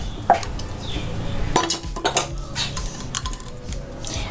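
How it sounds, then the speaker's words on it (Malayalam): Peeled peanuts pour into a steel mixer jar, giving a series of quick clinks and rattles that arrive in bursts, close and clear, with no speech. "അപ്പോൾ ഇതിനി നമുക്കൊരു മിക്സിയുടെ ജാറിലേക്ക് ഇട്ട് കൊടുക്കാം"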